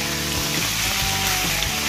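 Chicken pieces cooking in oil on an electric grill make a dense, steady hiss of frying fat, close and unbroken.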